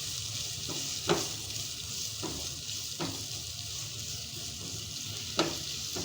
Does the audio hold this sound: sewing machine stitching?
no